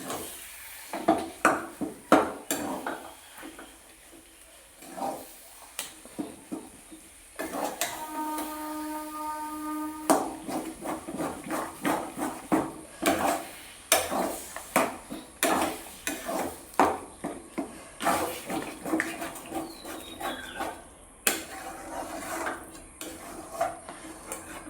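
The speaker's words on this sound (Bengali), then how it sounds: "তো দেখো আখের গুড় দিয়ে ভালো করে নাড়তে থাকবো।" A spoon scraping and clanking against a pan while amra pickle is stirred with sugarcane jaggery, irregular close knocks and scrapes in uneven bursts, with a brief steady tonal hum partway through.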